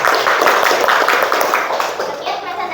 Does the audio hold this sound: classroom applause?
yes